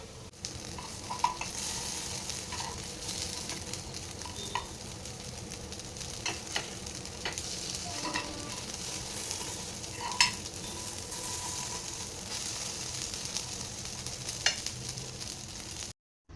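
Sabudana appe frying in an appe pan while a spoon turns them, a steady soft sizzle running throughout with faint scraping and tapping of the spoon, close and continuous.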